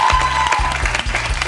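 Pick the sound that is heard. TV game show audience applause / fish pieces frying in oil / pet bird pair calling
TV game show audience applause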